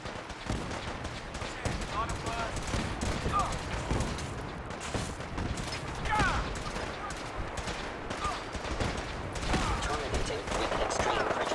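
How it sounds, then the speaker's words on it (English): Gunfire in Fallout 4, a steady dense clatter of shots and combat noise running throughout at moderate level, mixed with voices. "One day I'd like to not get shot at."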